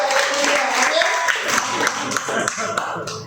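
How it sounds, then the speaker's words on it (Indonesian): A congregation at a Sunday church service claps and applauds, producing an uneven patter of hands that stays moderately loud, with voices talking over it. "Kasih tepuk tangan dulu, saudara."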